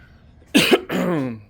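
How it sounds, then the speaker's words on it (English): A single harsh cough, close to the microphone, breaking into a rough throaty rasp that trails off, with no talking around it. "Sorry about the cough."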